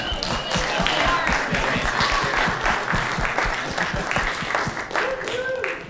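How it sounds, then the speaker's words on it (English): An audience applauds after a film scoring presentation with a live orchestra, steady, full clapping from a crowd that fills the room for the whole stretch without pause. "We just want to at least give you a round of applause for"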